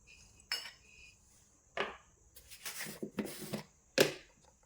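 Gram flour and rice flour are stirred together with ghee in a bowl, giving a few sharp, close scraping and clinking strokes of spoon against dish separated by quiet pauses.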